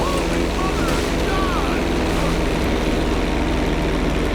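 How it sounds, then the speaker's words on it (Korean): An airplane flying over the beach in GTA 5: a loud, steady engine and propeller drone fills the whole stretch, constant and close with no pauses. "바닷가에 비행기 하나 날려보았어요"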